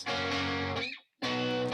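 Two electric guitar amps, one warmer and one harsher and more trebly, blended on a single distorted part, heard as two loud sustained chord stretches split by a short silence, with no talking.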